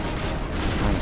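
Pistol gunfire in the Mass Effect Legendary Edition, loud and close, filling a short burst of dense noise. The shots blur into a thick, continuous roar with no clear gaps between them.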